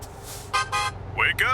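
Two pairs of blaring truck air-horn blasts in a driving video game, short loud toots in quick succession, with the second pair bending in pitch, over a low engine rumble.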